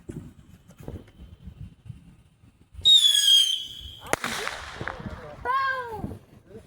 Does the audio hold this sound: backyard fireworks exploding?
yes